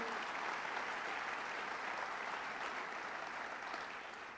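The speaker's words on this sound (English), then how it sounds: "Let's give him a round of applause for having us here today." A large audience at a Nassau County government budget event applauds steadily and loudly, a dense sustained wash of clapping that fades slightly toward the end.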